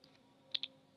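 Two quick, crisp keypresses sound on a computer keyboard while typing dots in Microsoft Word, close and clear over a faint steady hum.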